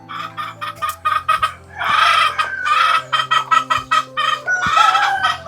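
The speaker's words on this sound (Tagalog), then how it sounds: "Daming manok dito." Many chickens in a rural yard beside an old house, clucking in quick bursts with a few louder crowing-like calls, close and steady throughout with no talk.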